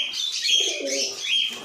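A male pigeon of a rose-beaked fancy breed gives a soft, close, continuous cooing call, a low throaty warble that rises and falls with no voices around it.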